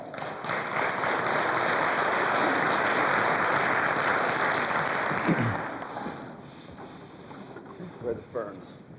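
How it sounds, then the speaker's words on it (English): Applause from the audience at a health policy panel in Alaska, loud and dense clapping that fills the first half and then fades, with voices and scattered noises following. "let's give them a round of applause"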